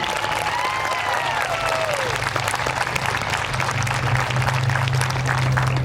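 Audience applause at a 2021 senior awards event fills the room, steady broadband clapping with whoops over a low hum, lasting throughout.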